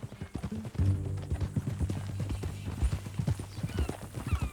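Horse hooves clip-clop at a steady walking rhythm in Red Dead Redemption 2, close and clear, over a low sustained tonal drone throughout.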